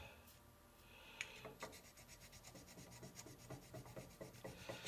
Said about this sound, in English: I like keeping this is a square stone, a carborundum one.